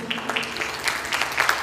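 Brief audience applause at a live concert for a musician, a scattered patter of claps with voices mixed in, building slightly toward the end.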